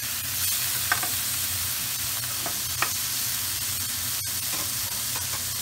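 McRib-style pork patties fry in a pan, a constant close, loud hissing sizzle with a few light scrapes and taps throughout, no voices.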